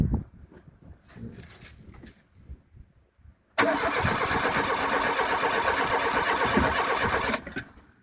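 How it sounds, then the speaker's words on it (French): A car engine with a dead fuel pump is cranked on the starter motor: after a few seconds of quiet clatter and faint voices, a loud, steady whirring crank runs for about four seconds, then stops. "je voulais te donner un coup de démarreur, voir si l'essence ressort ou pas"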